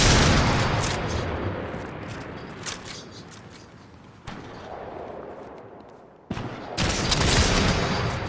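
Gunfire in a sniper video game, a string of loud booming shots with a dense rumble that fades between bursts, broken by a brief silence before another blast near the end.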